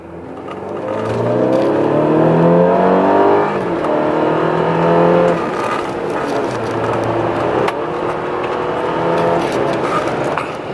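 A lowered, tuned car with an aftermarket downpipe accelerates hard through a tight corner, engine revving up through gears in a loud, steady drone with brief shifts; no one speaks.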